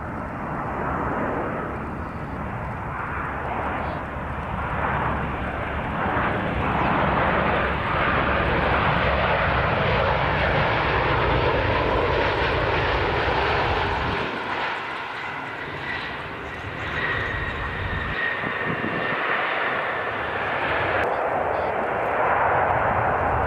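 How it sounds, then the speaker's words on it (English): A Boeing airliner with a technical malfunction comes in for a high-speed landing without flaps, its engines a loud, sustained roar that holds steady, then briefly dips and rises again near the end. "this Boeing is compelled to execute a high-speed landing without deploying flaps"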